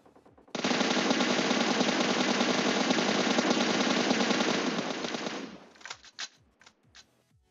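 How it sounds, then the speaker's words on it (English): An M416 assault rifle in the PUBG Mobile video game fires a continuous full-auto burst of about five seconds, loud and close, then breaks into a few scattered single shots and short bursts. "M416. It fires 556 bullets, has an amazing control, and people just love it in PUBG Mobile"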